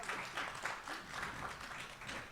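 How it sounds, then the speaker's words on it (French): Faint, rhythmic audience clapping at a festival talk welcoming Jacqueline, the speaker on health and environment, with soft pulsing claps throughout. "On va l'applaudir, Jacqueline."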